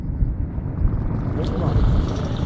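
A large airplane comes in to land at Skiathos Airport, its engine roar a broad steady drone that swells slightly as it nears, with people talking nearby.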